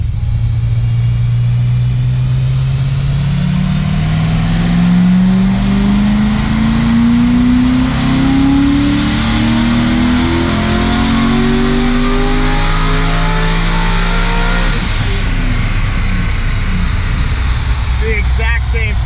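A 90,000-mile LS7 V8 revs up through a dyno pull, its engine note climbing steadily in pitch and loudness for about fifteen seconds before dropping off sharply, with talk partly audible beneath.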